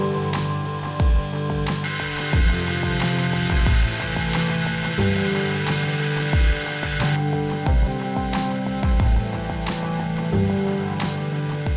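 A T8 CNC engraver milling text into a wooden piece, giving a steady, loud mechanical whir and grinding with repeated ticking and clicking accents as the spindle cuts, running continuously without talk.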